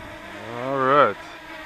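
Small DJI Mini 2 drone spinning up for takeoff in cold, windy weather, a brief rising buzzing whine that swells and then cuts off, close by.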